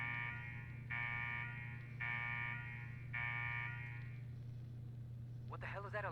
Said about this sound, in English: What the hell is that alarm?